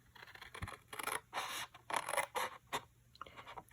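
Scissors cut cardstock-like paper along a straight line for a tuxedo fold card, with several short, crisp snipping and scraping strokes in an uneven rhythm, close and fairly quiet.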